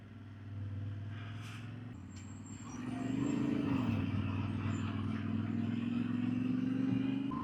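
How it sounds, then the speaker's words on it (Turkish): Heavy truck traffic on the Transalpina mountain road, heard from a Yamaha Tenere motorcycle: a steady low engine drone that swells around the third second and stays loud and close, with no talk. "bir de burada tır trafiği var"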